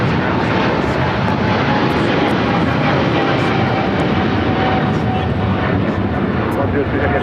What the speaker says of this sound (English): That is Philippine Airlines 113 taking off to Manila.